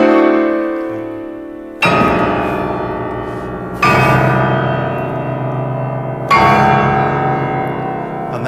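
Piano sounding three loud, ringing bell-like chords, each struck at intervals and left to decay, with a softer low passage before the first chord.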